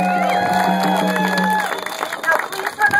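Outdoor crowd at a climate march in Santa Fe cheering and clapping, with whoops and shouts rising over a steady whistle-like tone that fades partway through.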